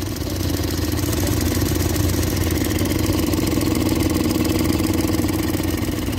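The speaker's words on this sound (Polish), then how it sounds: "Tryski cykają, słychacie?" A Suzuki DF20A EFI outboard engine idles steadily and roughly, with a fast, even ticking clatter from the fuel injectors running over the low rumble the whole time.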